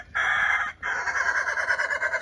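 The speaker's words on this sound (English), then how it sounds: "These are pure game hens and a rooster that's half game." A half-game rooster crows loudly and close among game hens, giving one clear call, a brief pause, then a longer drawn-out crow.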